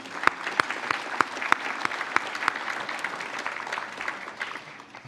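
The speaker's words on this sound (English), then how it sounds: "So let's give everybody a round of applause." A large crowd in a packed room at a Texas transportation event claps steadily, with several sharp individual claps popping out near the start before the applause gradually thins and fades.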